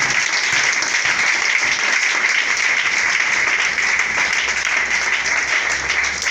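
A church congregation at a praise and worship service breaks into sustained, dense applause, loud and close, holding steady throughout with no speech over it.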